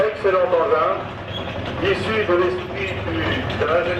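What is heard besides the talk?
None of the usual background noises is heard.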